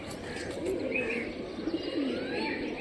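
A green pigeon coos softly a few times nearby, in short rounded calls over faint outdoor background noise.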